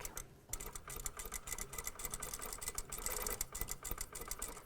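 A sewing machine back-tacking along a stitching line on a vest, its needle ticking in a fast steady rhythm, fairly faint and close, after a brief pause at the start.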